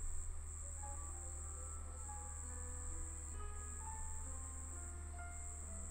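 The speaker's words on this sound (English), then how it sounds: "What is that buzzing ringing sound? There are crickets." Crickets chirp in a constant high-pitched trill that holds steady throughout, with no talking.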